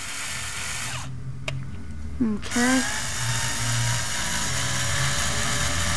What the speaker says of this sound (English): So right now, drilling it out,